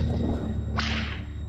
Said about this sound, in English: They're having a hoot and a half in the saloon when they hear a whip.